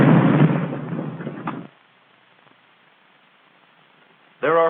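A bazooka anti-tank rocket launcher fires with a loud, roaring backblast that rushes for over a second before cutting off into near silence, then a voice begins speaking at the end.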